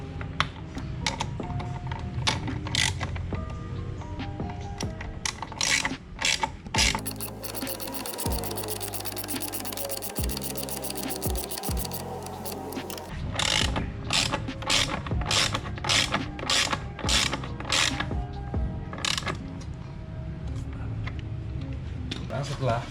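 A ratchet tightening exhaust bolts on a Honda ADV 150 during installation of a ROB 1 exhaust, with bursts of rapid clicking pawl ratcheting, some metallic rubbing and a steadier stretch in the middle.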